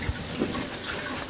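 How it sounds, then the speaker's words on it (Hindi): Water runs from a kitchen tap into a saucepan, a short steady gushing splash heard close and alone without talk. "तो पानी डाल दें"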